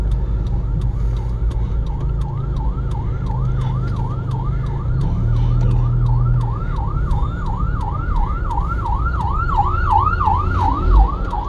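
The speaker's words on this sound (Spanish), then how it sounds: "Hay una ambulancia, ahorita viene otra ambulancia." An ambulance siren wails, cycling steadily up and down for the whole stretch, loud and close, over a low rumble of idling traffic stuck after a trailer accident on the road to Jutiapa, Guatemala.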